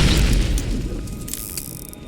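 Bullets and blasts tearing into skags in the video game Borderlands, a heavy low boom followed by a rumbling decay with a few faint pops, loud and close.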